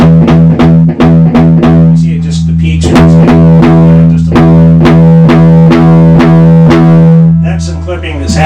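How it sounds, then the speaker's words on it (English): A 1968 Peavey Musician guitar amp head, the first Peavey guitar amp, driven into clipping distortion, giving loud, saturated, buzzy sustained guitar notes with repeated sharp picked attacks throughout. "we're very interested in that clipping because that's part of the way this amp sounds"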